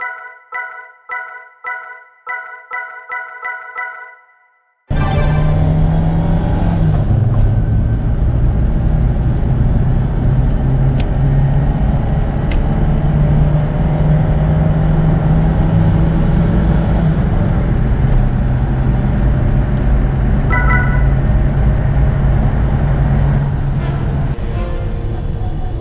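A 1986 Peugeot 205 1.3 SR drives along a road, its engine droning loud and continuous with road and wind noise after a brief musical intro.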